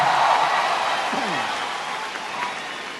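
A large crowd of brothers and guests at a packed religious gathering shouts and cheers in a steady, broad roar that fills the space, with a voice briefly breaking through the noise.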